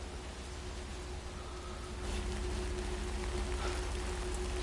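Steady rain falls in Death Stranding 2: On The Beach, a continuous hiss of drops that thickens midway, with a faint low hum beneath and no voices.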